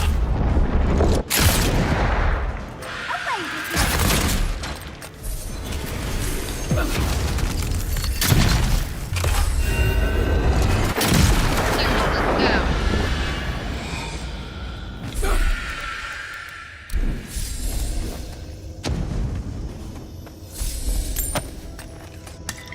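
Gunfire and booming impacts in the fantasy video game Avowed, with repeated sharp cracks and heavy thuds scattered through a loud, busy battle, close and dense, with no talk over them.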